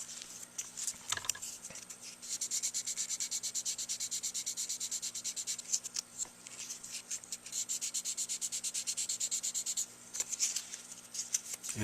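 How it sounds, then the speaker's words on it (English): Hand sanding with 300 or 400 grit sandpaper on a crooked mouthpiece tip to remove file marks. Close, steady back-and-forth rubbing strokes run in rhythmic bursts, broken by short pauses, with a faint steady hum underneath. "I grab either a 300 or 400 grit sandpaper, try to get my file marks out."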